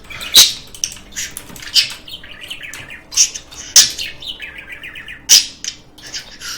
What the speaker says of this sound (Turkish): Şu kuşun bağırmaları beni deli ediyor ya.